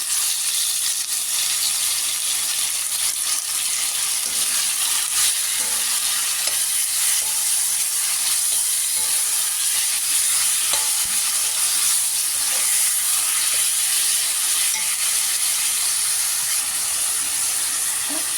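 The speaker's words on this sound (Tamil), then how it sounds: "இஞ்சி பூண்டு நல்லா வதங்கிடுச்சு. சிக்கனை போட்டணும்." Chicken sizzles and fries in a pan with sautéed ginger and garlic, a loud, steady hiss with occasional stirring scrapes, no voices.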